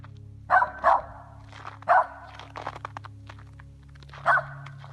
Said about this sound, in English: the family dog suddenly bolts across the yard, barking wildly